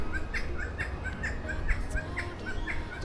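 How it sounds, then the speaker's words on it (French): An odd bird call repeats in short, evenly spaced chirping notes over a soft background hiss, moderately distant, near Cairns in Australia. "il y a un oiseau bizarre là"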